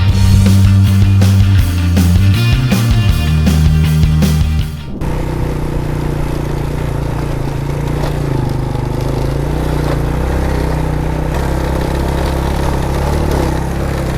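A motorcycle climbs a steep forest trail in first gear while hauling a banana trunk, its engine loud and close throughout with a steady drone that shifts abruptly in pitch partway through.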